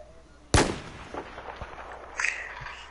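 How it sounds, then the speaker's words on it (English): A single heavy AC-130 gunship round fires in a video game, one loud sharp boom with a rumbling tail, followed by fainter scattered impacts and a brief bright rattle, no talk. "Who just shot that round from the AC-130?"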